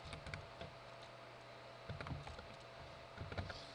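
Typing on a computer keyboard at a Kali Linux terminal, several short clusters of close, soft key taps spread across the stretch with quiet pauses between.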